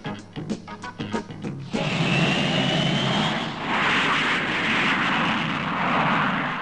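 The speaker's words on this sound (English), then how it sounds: "Powered by an engine from a starfighter jet, the Monster was showing its paces on an airfield near Bournemouth." The Green Monster dragster, powered by a Starfighter jet engine, runs on an airfield near Bournemouth: a few sharp popping bursts give way to a loud, sustained roaring rush that holds steady to the end.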